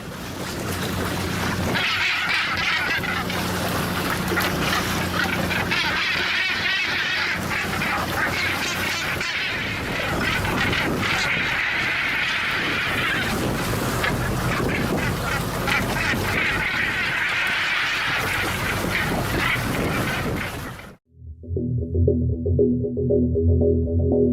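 Northern gannets, large seabirds with a wingspan of nearly two meters, call in a dense, harsh, nonstop chorus over wind and sea for about twenty seconds before it cuts abruptly to a low hum.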